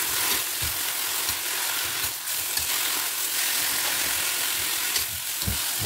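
Kangkong sautéing in a pan with oyster sauce and fish sauce gives off a steady, close hiss of frying, broken by soft clacks and scrapes of stirring at irregular intervals.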